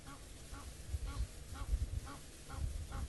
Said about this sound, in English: You can hear the Egyptian geese